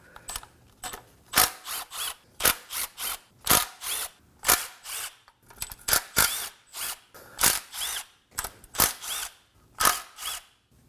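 A power tool with a 10mm socket removes the oil pan bolts on a 2017-2024 Nissan Armada, running in a steady series of sharp, close, loud bursts separated by brief pauses, with no talking.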